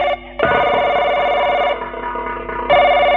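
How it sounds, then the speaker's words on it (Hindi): A telephone rings loudly and close in a home scene, a sustained electronic ringtone with steady tonal bursts that shift in pitch partway through, with no talk over it. "अरे माँ किसका फोन है?"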